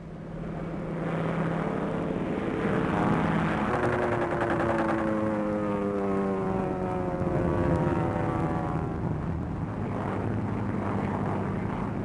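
A combat plane flies over enemy territory during the Spanish Civil War, with a loud, steady propeller-engine drone that holds without a break, its pitch wavering slightly.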